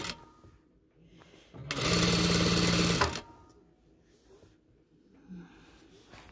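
Sewing machine stitching a fine hijab hem: one loud, steady mechanical whir lasting just over a second, close by, with quiet room noise before and after.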